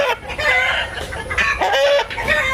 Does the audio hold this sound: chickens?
yes